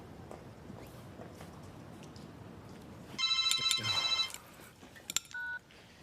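A telephone rings indoors in a homely British soap-opera setting: one loud burst of trilling rings, followed after a short pause by a couple of brief electronic beeps, over quiet room ambience.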